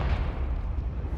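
A Confringo spell blast in Hogwarts Legacy, a dense, loud rumbling explosion with heavy low-end boom that fills the whole moment without pause.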